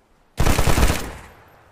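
A gunshot burst in the DayZ video game, a loud, sudden rapid volley of several overlapping shots that rings out and decays over about a second, with no talking.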